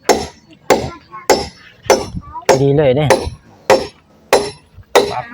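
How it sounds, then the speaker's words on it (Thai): A hammer drives a nail into wood during house building, with about nine sharp, evenly spaced strikes close by and a brief spoken remark partway through. "ตอกให้มันเข้าอีกนิดนึง"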